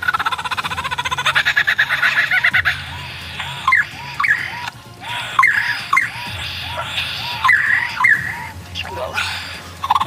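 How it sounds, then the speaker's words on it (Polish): A lyrebird in the forests of Australia's southern coast sings a varied song of borrowed calls, with repeated chirps, whistles and trills following one another in quick bursts, fairly close and clear against a faint forest background. "Ten ptak nazywa się lirogon i zamieszkuje lasy południowego wybrzeża Australii."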